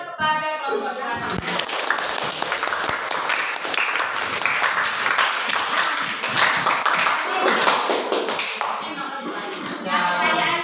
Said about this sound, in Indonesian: Berikan aplaus kepada kelompok Gerakan.